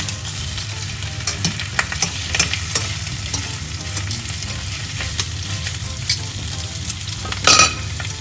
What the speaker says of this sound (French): ça fait environ 3 minutes que la viande est en train de rissoler.